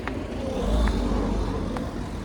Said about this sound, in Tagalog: Kasi ang daming sasakyan.